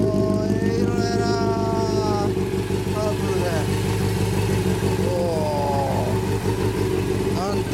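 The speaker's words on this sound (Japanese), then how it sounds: "あのエンジン音聞かして" A 1997 Honda CB400 Super Four Version S (NC31) with an aftermarket exhaust idles loudly and steadily and is blipped a few times, with voices speaking over the engine.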